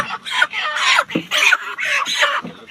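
Chickens cluck in quick, loud, close bursts, a flurry of overlapping calls with brief gaps between them.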